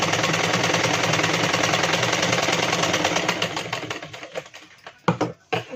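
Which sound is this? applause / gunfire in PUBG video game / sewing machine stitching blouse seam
sewing machine stitching blouse seam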